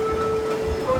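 A train at New Delhi railway station produces a steady, loud rumble with a sustained tonal hum from nearby carriages, a continuous mechanical drone with no pauses.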